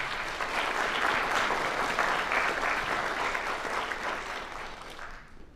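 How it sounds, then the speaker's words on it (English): Sustained audience applause at a National Honor Society induction ceremony, a full, steady wash of clapping from a large crowd lasting over five seconds before tapering off. "Let's give him another round of applause, please."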